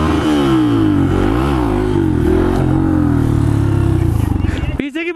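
A motorcycle ridden on a long ride, its engine droning loud and close with steady harmonic hum and a brief rev dip, before cutting away near the end.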